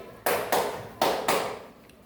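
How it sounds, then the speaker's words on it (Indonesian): Four crisp hand claps in a classroom, close and fairly quiet, falling as two pairs with a short pause between them. "Untuk yang selanjutnya tepuk 4 kali."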